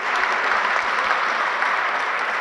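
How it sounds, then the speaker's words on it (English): An audience at a Cape Town conference on reformed multilateralism applauds a panel, with steady, dense clapping that holds at an even level for the whole stretch and a few low thumps underneath. "please do join me applauding this panel for the excellent comments they've made"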